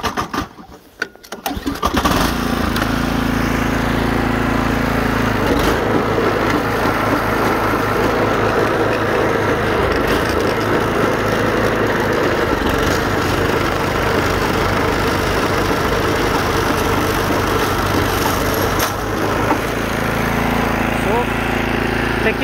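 A snow blower engine coughs and catches within the first two seconds, then runs loud and steady at a constant roar for the next twenty seconds, close to the listener.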